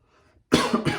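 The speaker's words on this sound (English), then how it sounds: "had a little coughing fit there" A single burst of coughing, close and loud, starting abruptly after a near-silent moment and continuing in a few quick hacks.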